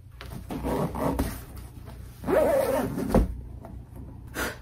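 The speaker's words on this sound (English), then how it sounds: "there's a zipper on the bottom" A zipper on the bottom of a desk organizer being pulled open in a couple of quick, close strokes, with soft handling rustle in between.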